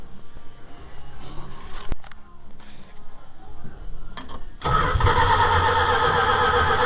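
A 1974 Dodge Dart Sport with a 360 engine cranks briefly, then fires and catches at about five seconds into a loud, steady, close running roar.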